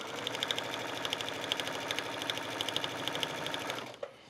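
Sewing machine running steadily as it stitches along the edge of a grosgrain ribbon skirt waistband, a fast even mechanical whir with regular clicking, stopping abruptly near the end.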